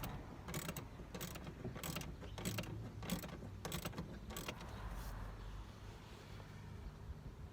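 A ratchet clicks in quick bursts while snugging down bolts on an NA Miata shifter during a rebuild with bronze bushings, close and fairly quiet, about eight rapid strokes followed by faint mechanical rustling.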